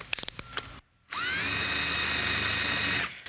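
A power drill with a bent bit bores a pilot hole while rehanging a shed door: a few sharp clicks and taps, a brief pause, then a loud, steady high-pitched whine of about two seconds that stops abruptly.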